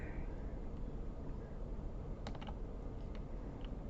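Computer keyboard keys being typed during a video game session: a short cluster of crisp clicks in the middle, with a few more scattered taps after, over steady background hiss.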